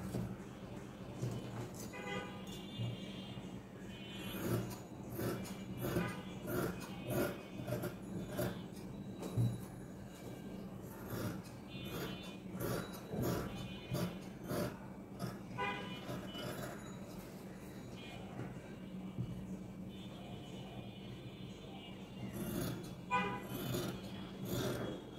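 Scissors cut through sleeve fabric folded four times for a baby frock, a steady run of close rasping snips that goes on without a break.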